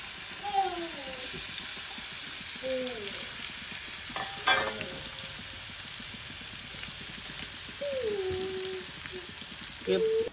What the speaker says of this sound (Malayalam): ഉപ്പും മുളക് പൊടിയും ശകല മഞ്ഞപ്പൊടിയും കൂടി ഇട്ട് പുരട്ടി വെച്ചതാണ് അത് പൊരിച്ചെടുക്കട്ടെ